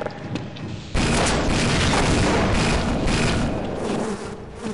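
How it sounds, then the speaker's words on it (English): Alien turret in Half-Life firing a dense, sustained burst of booming shots that starts abruptly and rolls on steadily, loud and close, with no talk over it. "Yeah, that's an alien turret."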